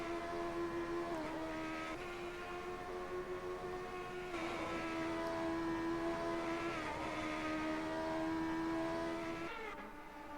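Race cars in a video game at Spa-Francorchamps climb through Eau Rouge and Raidillon, some braking uphill, their engines droning loud and continuous with shifting whines and pitch changes throughout.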